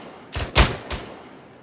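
Three quick gunshots in Arma 3, in a short burst, sharp and loud, with the middle shot strongest, then quiet background hiss.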